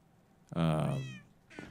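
A cat in the Minecraft video game gives a single clear, drawn-out meow, loud and close, with a brief quieter sound just after it.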